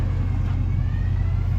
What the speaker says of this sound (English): Like my new exhaust.